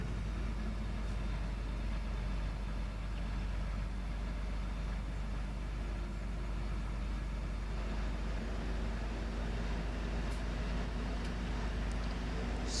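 Dual-wheeled tractor in Farming Simulator 17 drives along narrow roads, a continuous low engine drone at steady volume with faint ticks late on.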